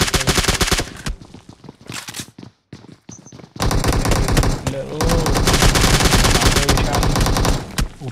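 Rapid automatic gunfire bursts in PUBG Mobile, dense overlapping shots in a heavy firefight with a brief lull before a long sustained volley, loud and close.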